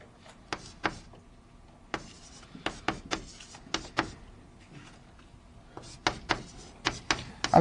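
Chalk or marker tapping and scratching on a board in a discrete mathematics lecture hall, a string of sharp uneven clicks and short strokes in bursts, close and alone with no voice.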